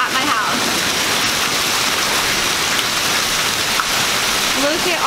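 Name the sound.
hail storm falling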